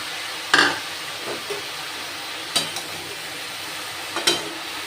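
Lentils and green peas frying in a pan, a steady soft sizzle broken by a few sharp bursts where the food is stirred or scraped.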